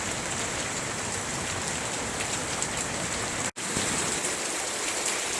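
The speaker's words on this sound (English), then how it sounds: "We're going to get all of our monsoon rain in one evening around here." Heavy monsoon rain pours down steadily in a dense, continuous hiss, loud and close, with one brief dropout partway through and no voices.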